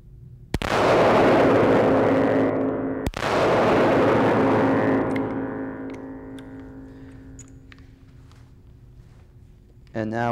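Two loud revolver gunshots fired at an outdoor range from a revolver fitted with a side-mounted laser sight, each sharp crack followed by a long booming echo that slowly fades.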